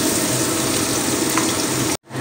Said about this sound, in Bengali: তো পেঁয়াজটা 2 মিনিট সময় কষিয়ে নিলাম।